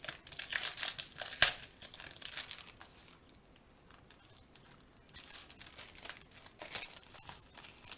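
Crinkly plastic packaging around craft dies is torn open, loud crackling bursts at the start, then a quiet pause, then more rustling near the end, with no talk over it.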